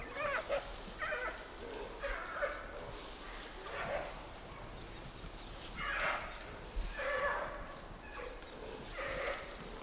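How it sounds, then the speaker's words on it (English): Wild male giant pandas growl in the forest, a series of repeated moaning, bleating calls rising and falling at moderate distance over a soft background. "From the growls, it's obvious the males will have no energy left for fighting, as Lulu does with the females in Wulong."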